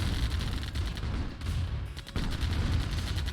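Rapid gunfire rattles as harvesters are sniped in Command & Conquer Remaster, an online PvP strategy game, with dense repeated shots and small bursts heard up close over a busy game mix.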